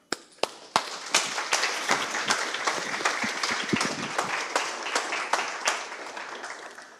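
Audience applause at a conference welcoming a speaker: a burst of many hands clapping with sharp individual claps, steady and fairly loud throughout, tapering slightly at the end.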